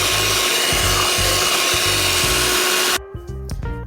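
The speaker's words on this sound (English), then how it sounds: "Now we can add our sugar. And you're going to mix it until it's well combined." Sugar being mixed into sweet potato pie filling in a bowl gives a steady, loud whirring and rubbing for about three seconds, then stops abruptly, leaving a few quieter knocks.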